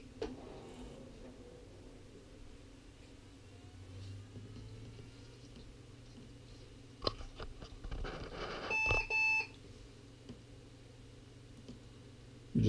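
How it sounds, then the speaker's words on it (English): A Lenovo ThinkCentre E73 desktop computer at power-on gives a brief electronic BIOS beep amid low fan hum and some handling clicks, the beep short and distinct late in an otherwise quiet stretch. "Just getting a beep off the BIOS because of the configuration change moving back and forward between the drives."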